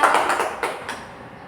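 Classroom children clapping together, a few quick sharp claps in rhythm close by that fade out after about a second, with no talking over them.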